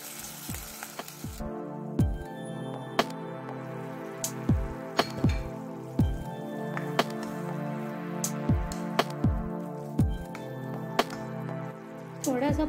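Water poured into a pan of simmering masala chickpeas with crushed chillies and pink salt, giving a steady bubbling sizzle broken by sharp, regular tapping clicks, close and fairly loud.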